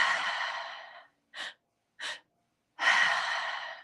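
Slow, deep breaths from a guided breathing exercise: two long airy exhales bracket a pair of short quick puffs, close and clear with near silence between.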